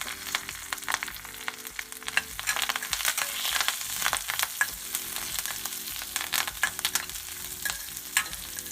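Curry leaves and small shallots with dried red chillies fry in oil for mutton keema, a continuous crackling sizzle with sharp pops under soft background music, no voices.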